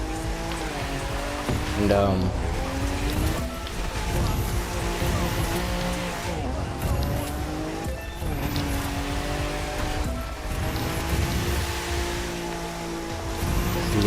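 A Nissan 370Z in The Crew 2 racing game drifts with sustained tire squeal over a droning engine, wavering pitch as it slides, while a person talks over the gameplay.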